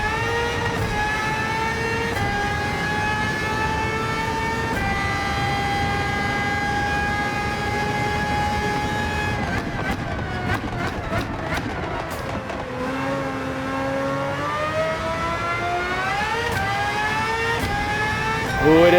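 Race car engine in Gran Turismo 7 revving and accelerating out of a corner, a loud, continuous whine with rising pitch and gear shifts, alone without talk.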